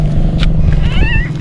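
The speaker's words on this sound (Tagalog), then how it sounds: "May pusa." A cat meows briefly at an outdoor spot where a venomous snake is being caught, a short wavering cry rising over steady low rumble and crowd noise.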